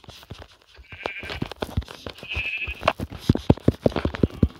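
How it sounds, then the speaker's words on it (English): Sheep bleating in the video game Minecraft, several short bleats near and fairly loud among clicks and other game sounds, with no talking. "There is lava and sheep."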